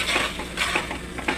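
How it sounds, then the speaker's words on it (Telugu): Amla pickle pieces being stirred with turmeric and salt in a pot, a few scraping, clattering strokes of a spoon against metal at a steady rhythm, close and fairly loud, with no talking. "ఇప్పుడు మనము పసుపు, ఉప్పు వేసుకొని బాగా కలుపుకోవాలి."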